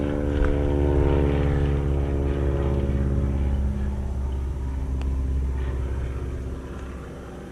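Propeller airplane flying, a steady loud droning rumble with a harmonic engine hum that fades slightly over time.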